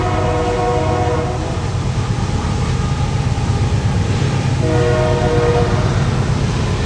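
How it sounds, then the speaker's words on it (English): A loud train rumbles past close by, a constant heavy roar with a sustained horn-like tone running through much of it. "that train's so loud"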